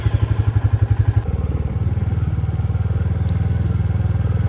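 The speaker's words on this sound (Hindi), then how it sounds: "कर लेते हैं हम अपने बाइक का को स्टार्ट।" A motorbike engine fires up and settles into a steady, close chugging idle, with a brief louder burst at first before the even running rhythm takes over; no talking.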